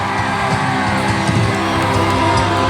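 A large crowd at an open-air Christian prayer festival in Jharkhand shouting and cheering loudly, a dense, steady wall of yells and whoops that fills the whole stretch without a break.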